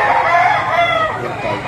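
Rooster crowing at a livestock market in Lipa, Batangas, one loud close call rising and trailing off, with faint background chatter.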